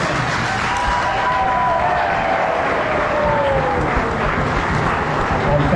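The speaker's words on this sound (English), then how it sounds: "Okay, let's just give a big round of applause." A crowd claps and cheers at a first birthday party, sustained applause filling the whole stretch at an even, loud level, with a few voices rising faintly through the clapping.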